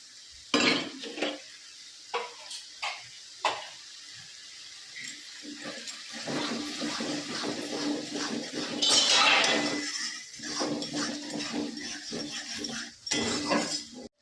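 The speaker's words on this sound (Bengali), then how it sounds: "ভালো করে কষিয়ে নেব" Ground spice paste with its soaking water and sugar is worked in a pan for bhetki fish head curry: wet stirring, spatula scrapes and intermittent clanks against the metal, close up, with no talking.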